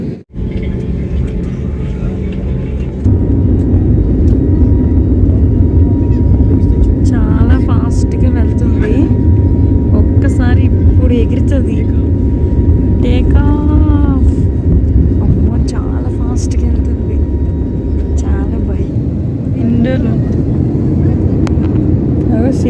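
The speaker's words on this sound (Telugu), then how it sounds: "ఇప్పుడు వెళ్తుంది ఫ్లైట్ అప్పుడు ఎగురుతుంది" Inside a passenger jet taking off on a Delhi to Srinagar flight: engine roar rises and holds as a loud, steady cabin rumble, with people talking intermittently over it.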